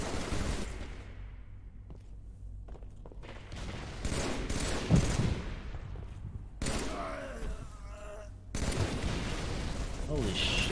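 Rapid gunfire bursts and booming shots from a Heretic capture the flag match, loud and continuous across the stretch with a voice talking over them.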